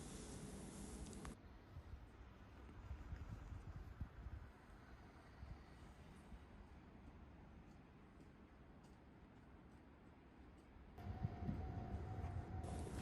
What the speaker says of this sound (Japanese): では次に乗る列車がやってまいりました。